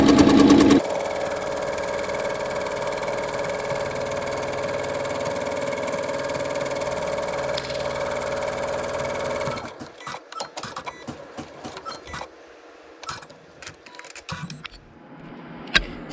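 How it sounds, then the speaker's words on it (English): An embroidery sewing machine runs a placement stitch, giving a steady, loud mechanical whir with a rhythmic hum that then stops, followed by quieter scattered clicks and handling sounds. "I'm going to stitch the placement stitch or step number 1"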